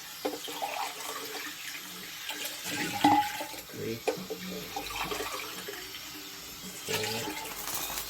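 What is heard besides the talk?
water poured into pot for mutton yakhni pulao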